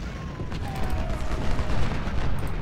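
Artillery fire in the Ultimate General video game makes a dense, continuous rumbling battle din. It stays loud and sustained throughout, with no distinct separate blasts and no talking.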